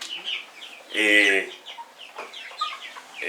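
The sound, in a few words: chickens clucking in a coop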